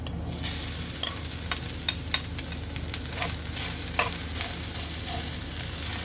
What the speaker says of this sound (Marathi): खोबरं टाकून एक ते दोन मिनटं छान व्यवस्थित कलर चेंज करायचा नाही आहे आपल्याला परतून घ्यायचा आहे